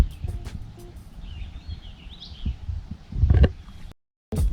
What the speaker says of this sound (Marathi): सुंदर असं पक्ष्यांचा आवाज देखील आपला कानावर ऐकू येतोय बघा